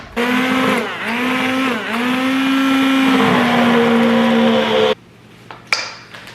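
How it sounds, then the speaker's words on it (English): Immersion blender pureeing cauliflower and onions, a loud whirring motor whose pitch dips and rises as the blade works through the vegetables, then cuts off abruptly, followed by a few faint clinks. "We like to use an immersion blender for that rather than a food processor"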